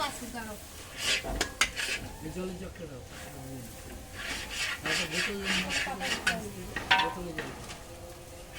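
Fried potatoes for stuffed aloo dum are lifted out of a pan, with several sharp metallic scrapes and clinks of a utensil against the pan while someone talks throughout.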